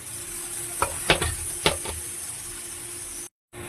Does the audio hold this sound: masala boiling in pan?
yes